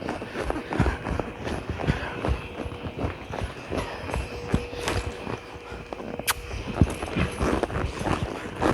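A mare's hooves beat in a steady, rhythmic clip-clop as she is worked on picking up her lead, each footfall close and fairly clear over a continuous background rush.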